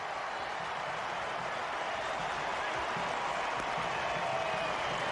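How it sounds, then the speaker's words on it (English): German fans in a stadium crowd cheering after a goal in a USA vs Germany football match, a dense, distant, steady roar of voices and applause filling the whole stretch. "The German faithful in the crowd erupt."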